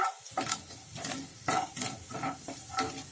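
A spoon scrapes and stirs chopped ginger in a pan in repeated strokes, with a soft sizzle of frying underneath, close and fairly quiet.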